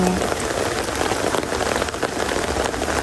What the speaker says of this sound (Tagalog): Maulan ang panahon.